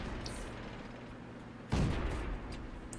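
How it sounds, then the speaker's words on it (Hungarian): A tank cannon fires once in the World of Tanks video game, a single loud boom midway with a rumbling tail over continuous engine and battle ambience. "Lövés volt a részedről."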